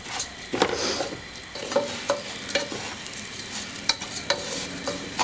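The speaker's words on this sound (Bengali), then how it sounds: "এগুলো ভালো করে নেড়ে চেড়ে নেব যেন তেলটা চতুর্দিকে পায় এবং চালগুলো ভালোভাবে ভাজা হয়ে যায়" Rice and lentils fry in oil for bhuna khichuri while a spoon stirs them, giving repeated scraping knocks against the pan over a steady, close sizzle, with no voices.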